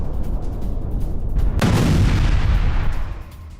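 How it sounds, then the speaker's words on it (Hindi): A heavy explosion booms near the Sedot Micha airbase in Israel, starting as a sudden loud blast and then rumbling on as a low roar before fading, with a faint earlier rumble beneath it. "इजराइल का न्यूक्लियर वेपन स्टोरेज साइट के करीब धमाका।"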